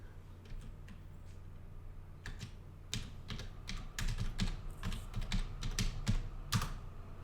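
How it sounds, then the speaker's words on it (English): Keys clatter on a computer keyboard, sparse and quiet at first, then a quicker run of irregular taps that grows louder, with faint room noise underneath. "I like the typing."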